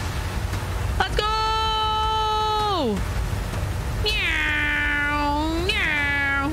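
Two long, drawn-out cat meows in the video game Resident Evil 4 Remake, loud and close, the first falling away at its end and the second rising and wavering, over a low background rumble.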